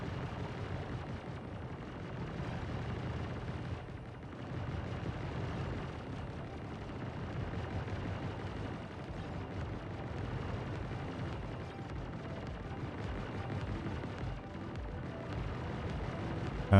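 Station turrets firing in the space game Star Citizen, a dense continuous rumble of booming blasts, steady and moderately loud throughout.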